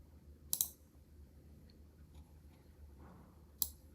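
Computer mouse clicks while working in Google Earth, a few faint sharp clicks, a quick pair followed later by a single one, in a quiet room with soft background noise.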